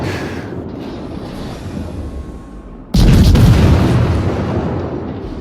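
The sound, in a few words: warship guns firing in the video game World of Warships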